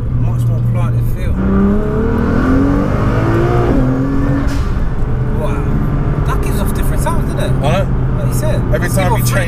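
A 1000 bhp Nissan GT-R engine revs up loudly through rising gears, pitch climbing and dropping with each shift, while a person talks over the roar.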